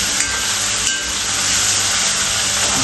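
Buffalo meat frying in a pan with masala gives a loud, continuous sizzle and hiss, close up and steady, with no voices.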